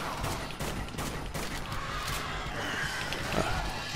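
Submachine gun fire in the Dead Nation zombie shooter, a dense, steady stream of quick shots at moderate volume that carries on without a break.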